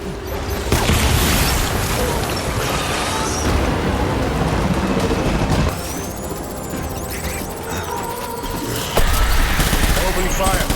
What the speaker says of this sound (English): Opening fire. Light him up.